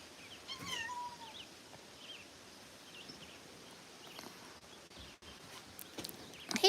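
Tabby, a cat with an orange collar, gives a few soft, faint meows outdoors amid birdsong and light rustling, with a brief thump near the end.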